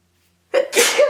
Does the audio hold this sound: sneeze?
yes